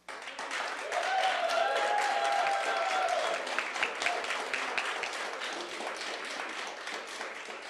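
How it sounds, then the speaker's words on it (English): Crowd applause with cheering and whistles at a provincial government announcement of new school projects in Edmonton, swelling after a second and holding steady and loud throughout. "As you can tell, I'm sure, by some of the cheering"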